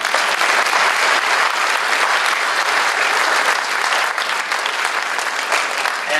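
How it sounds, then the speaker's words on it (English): A loud, dense round of applause from a crowd at a senior honors night, many hands clapping steadily and close, filling the whole stretch without voices. "I want to give you a round of applause as well"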